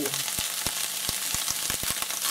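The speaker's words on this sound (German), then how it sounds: "das lasse ich jetzt ein bisschen brutzeln" Tuna and onions sizzle in a frying pan for a low-carb bolognese, a steady close crackling hiss broken by frequent small pops and spits.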